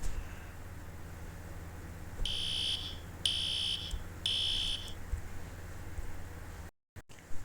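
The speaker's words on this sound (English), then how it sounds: "the fire alarm has started" During a school fire drill, a fire alarm sounds three sharp, evenly spaced electronic beeps, each lasting under a second, against a quiet room hum.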